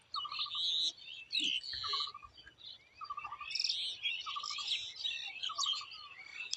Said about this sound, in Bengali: পাখির ডাকগুলো শুনতে পাচ্ছ?